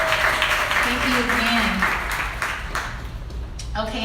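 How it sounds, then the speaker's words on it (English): Audience applause at an author's book event, a steady wash of clapping running under someone speaking over it, tapering off toward the end. "everybody give them a round of applause"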